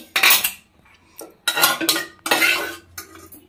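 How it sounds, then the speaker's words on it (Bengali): A pressure cooker that held boiled dal is opened, bringing a few loud close metallic clanks and scrapes of the lid and pot in quick separate bursts, with short quiet gaps between them. "এবার প্রেসার কুকারটা খুলে নেব।"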